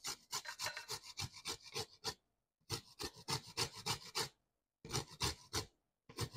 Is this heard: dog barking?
no